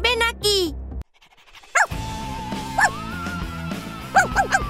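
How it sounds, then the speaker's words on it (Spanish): Cartoon dog in a Friday Night Funkin' mod game, yipping and panting in short bursts between brief voices and game music, loud and close. "¡Pero si tenemos un perro!"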